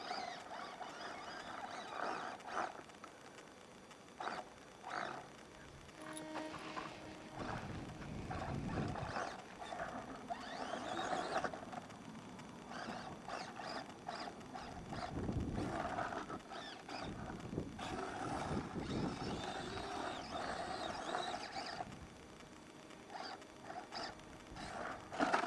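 Axial SCX24 Bronco RC crawler driving in stock form, its small motor whining and straining in uneven bursts with clicking mechanical chatter, fairly faint and close, no voices.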